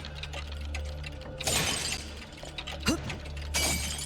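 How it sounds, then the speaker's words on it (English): Breaking clocks in a horror video game set off two sharp bursts of shattering glass, one early and one near the end, over a continuous low droning hum. "The sound of the clocks breaking, that glass breaking sound"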